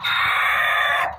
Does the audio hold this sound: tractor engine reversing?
no